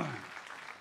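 Applause from an audience at a live American Bandstand musical tribute show, a brief continuous patter of clapping that sounds like a crowd winding down, close and steady throughout.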